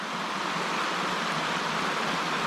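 Small rapids in a Maine trout brook, a dense, steady rushing hiss of fast shallow water, close and constant with no breaks or voices.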